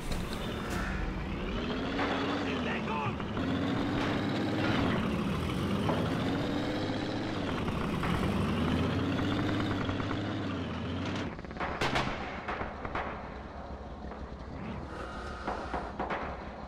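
A tank engine in the Red Orchestra 2 war game drones steadily and loudly, its pitch rising and falling throughout, with a short sharp burst near the end and no clear speech.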